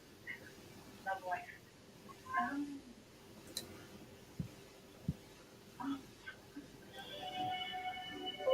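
A house cat meows several times, faint and intermittent, over a low background hum with a few clicks and knocks.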